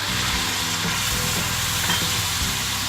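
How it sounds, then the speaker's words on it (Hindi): Spices with garlic, ginger, salt, chili, turmeric and coriander frying in a pan for a cabbage and pea curry: a steady, loud, close sizzle that continues without a break, with a few low bumps. "टमाटर डाल के भून लेना है"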